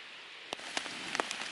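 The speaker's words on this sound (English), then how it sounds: "It's drizzling a little bit, starting to get a little light rain" Light rain drizzles on a solo canoe trip in the Boundary Waters, a soft steady patter with a few close, faint drops landing on a surface over a brief moment.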